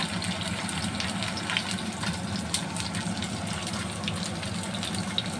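Steady crackling sizzle of fish frying in hot oil, dense and continuous at close range with no voices.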